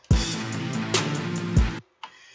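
A programmed hi-hat roll fill in FL Studio, a dense run of bright electronic hits swelling in bursts, loud and close, then a brief gap and a short quieter tail.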